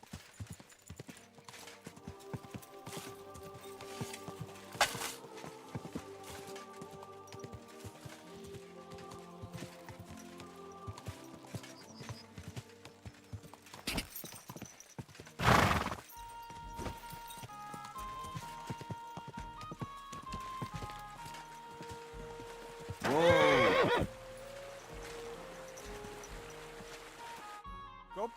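A horse clip-clops steadily through Kingdom Come: Deliverance 2, with hooves beating under game music, and a couple of loud bursts breaking in, one of them a neigh.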